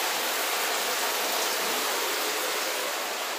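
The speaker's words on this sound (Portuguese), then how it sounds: "Vamos encher essa aqui também pra tá mornando a água mais rápido." Water gushing steadily into a container to fill a backyard pool, a loud, unbroken hiss of running water close by with no pauses or voices.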